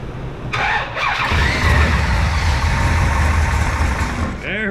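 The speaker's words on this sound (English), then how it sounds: "Let's see if it's gonna fire up with some brake clean action." A 1965 Shelby Cobra with a 454 big-block V8 fires up on brake cleaner, a loud rough engine roar starting after a brief crank and running steadily close by, with a squealing whine near the end.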